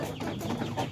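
KUB chickens cluck in a dense, close chorus at feeding time, soft overlapping clucks filling a short moment with no talking.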